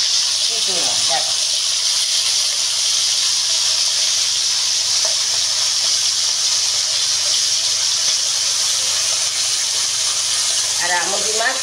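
Amudi anchovy fish frying in hot oil, giving a steady, loud sizzling hiss that runs unbroken through the whole stretch, with faint traces of a voice near the start and end.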